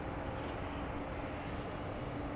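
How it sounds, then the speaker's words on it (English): A Boeing 737-700 arriving at Dallas Love Field, a broad, steady jet roar that fills the clip at moderate loudness without pause. "Here's a flight coming in from Tucson,"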